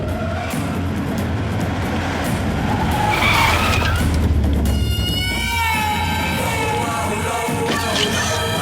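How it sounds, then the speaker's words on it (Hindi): A car in an action scene from a Hindi-dubbed Badrinath film arrives with a loud, sustained tire screech over a roaring engine. The squeal rises and then fades into the rumble of the slowing vehicle. "सरकार की गाड़ी आ रही है।"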